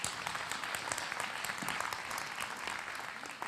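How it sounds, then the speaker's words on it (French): An audience at a talk on risk management claps in a steady, even burst of applause lasting a few seconds, moderately distant and without speech on top. "Vous pouvez applaudir"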